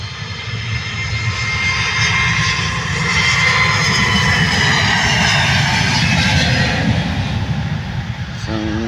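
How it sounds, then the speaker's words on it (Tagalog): An airplane taking off on a new morning, with a loud, steady engine roar that swells slightly midway and holds for the full nine seconds, close and continuous. "Isang panibagong umaga ng paglipad ng eroplano."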